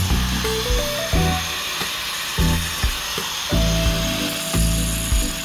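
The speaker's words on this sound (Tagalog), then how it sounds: "Kaya grinderin na agad natin." A grinder cuts into the steel chassis of an RSX 150 motorcycle. Its harsh, loud whine rises and falls in repeated strokes that cut in and out, close to the listener, with no one talking.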